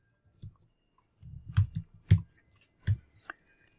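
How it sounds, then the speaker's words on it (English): A handful of sparse, crisp keystrokes on a computer keyboard as a search term is typed, with irregular gaps between the clicks and no voices. "if you just type in FDAX"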